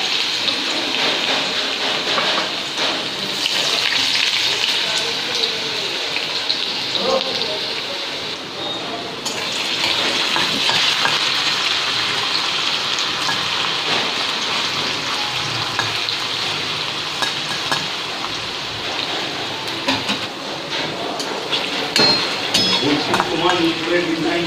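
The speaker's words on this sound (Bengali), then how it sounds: "ব্যাস তেলটা গরম হয়ে গেছে, তো এবার আলুগুলো ছেড়ে দেবো" A small batch of potatoes frying in hot oil makes a loud, continuous bubbling sizzle with occasional clinks of a utensil, swelling and easing over a long stretch.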